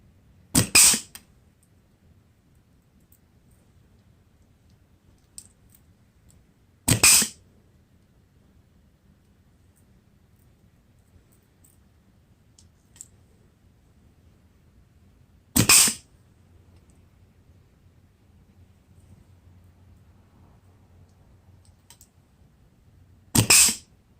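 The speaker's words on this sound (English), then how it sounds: "putting these studs in, they stick out not even a 1/16 of an inch" Pneumatic stud gun pressing small pointed studs into a winter tire, four sharp loud bursts spaced several seconds apart, with quiet background between.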